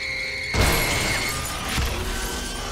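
Glass breaks loudly in Lego Jurassic World, a sharp crash after a high tone, then a second smaller smash a moment later. Both are close and harsh.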